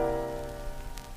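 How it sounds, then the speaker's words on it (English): A sustained jazz chord with a flatted fifth, from a 1950 talk on bebop, rings out and slowly decays, its harmonic stack holding alone for just over a second with no voices. "you flat the fifth note, and it sounds like this."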